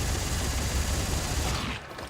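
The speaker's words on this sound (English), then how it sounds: "I am shooting the moon with a lot of ammo." Rapid, dense gunfire in Dead Space 3 as a player fires a large volume of ammo at the moon, a loud continuous barrage of shots that thins out over the last fraction of a second.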